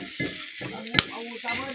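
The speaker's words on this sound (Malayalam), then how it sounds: "എവിടെയൊക്കെ പൊട്ടുന്ന സൗണ്ട്." Vegetables, ivy gourd, onion and tomato with turmeric and salt, sizzle and crackle steadily in a hot pan, with a sharp pop and stirring scrapes over the frying.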